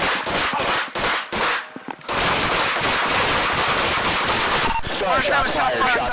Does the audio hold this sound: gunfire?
yes